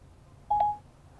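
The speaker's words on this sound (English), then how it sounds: "press and hold the talk button on the steering wheel until you hear a tone" Apple CarPlay in an Audi gives a single short Siri activation tone, a quick clean two-part electronic beep heard alone over faint cabin hum.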